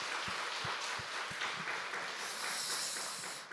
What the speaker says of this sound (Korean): 하나님 앞에 영광의 박수 올리겠습니다